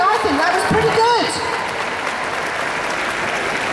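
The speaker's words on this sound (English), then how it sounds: "Big round of applause as they leave the ring." An audience applauds at the Crufts 2015 dog show as a team of Nova Scotia duck tolling retrievers leaves the ring, loud clapping fading after a second beneath a commentator's voice.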